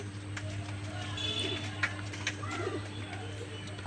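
Pigeons newly bought from a village market coo softly, with a few brief calls rising over a steady low hum and faint background murmur.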